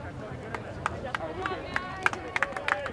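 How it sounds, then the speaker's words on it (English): Spectators at a high school boys soccer match clap for a substituted player, sparse claps with a few sharper ones rising slightly over crowd murmur and nearby talk. "Nice applause for Matt Bilodeau."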